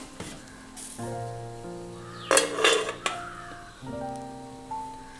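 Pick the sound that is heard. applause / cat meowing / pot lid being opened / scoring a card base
pot lid being opened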